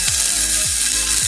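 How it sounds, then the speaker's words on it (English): Scallops sizzle in a hot pan, giving a steady broadband frying hiss throughout with faint repeated low clicks, no voices. "If you're putting the scallops in, making sure it sizzles."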